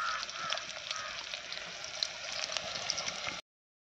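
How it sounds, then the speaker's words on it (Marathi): Onions frying in plenty of oil in a pan over a wood-fired clay stove outdoors, a steady close sizzle and hiss that holds evenly, then cuts off abruptly, with no talking. "आता कांदा झाला लाल तळून चांगला लाल तळला"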